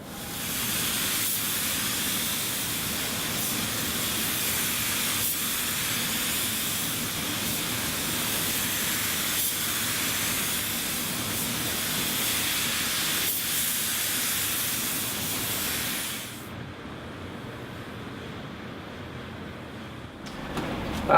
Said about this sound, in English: Let's get the clear coat on